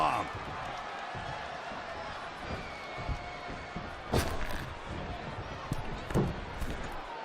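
A sit-out powerbomb slam in the WWE 2K20 wrestling game during a mixed tag team match lands as a sharp thud near four seconds, with a second impact later, over steady arena crowd noise and commentary.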